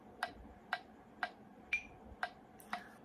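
A metronome app ticks at 120 beats per minute, six sharp, evenly spaced clicks about half a second apart, quiet and alone over faint room hiss.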